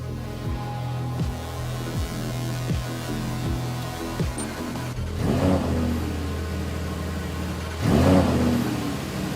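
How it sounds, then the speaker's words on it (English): A Lamborghini Huracán EVO V10 engine idles with a deep rumble, then revs hard twice in loud, rising roars, close by and with no talk. "the V10 of the Uracan is allowed to roar for the first time"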